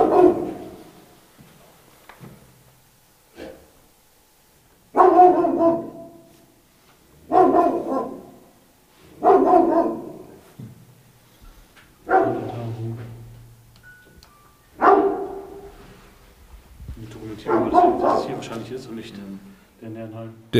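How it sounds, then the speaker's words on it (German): A dog in an apartment building in Kiel barks in a string of loud, regularly spaced bursts about every two seconds, with people talking nearby. "Der da unten, der bellt oft"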